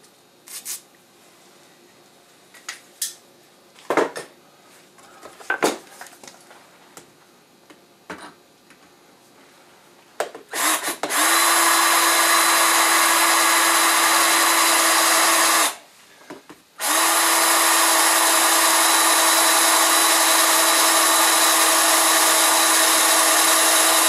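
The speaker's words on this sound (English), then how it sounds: "Dull drill bit, it figures." Scattered clicks and knocks give way to a loud, steady electric drill whine as a dull bit drills metal for an air compressor muffler, running continuously, cutting out briefly, then starting again.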